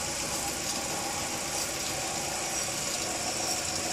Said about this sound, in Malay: kita terus tekan injak minyak untuk mengeluarkan karbon melalui exhaust system